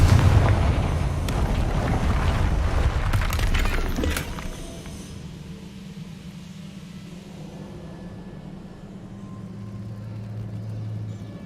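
A Confringo blasting spell explodes in the Hogwarts Legacy video game, a loud booming burst with crackling debris over the first four seconds that fades into a low rumbling hum.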